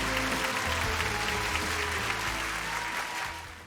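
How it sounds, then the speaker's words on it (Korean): A studio audience at a Korean television broadcast breaks into sustained applause, a dense wash of clapping that stays loud and even before easing slightly at the end. "자, 여러분 강철 같은 박수 한번 부탁드리고요"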